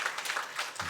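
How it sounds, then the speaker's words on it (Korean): A church congregation's brief applause of welcome for a visitor during a Sunday service, a soft wash of many hands clapping in the sanctuary with a faint voice near the end. "우리 환영의 박수 하도록 하겠습니다."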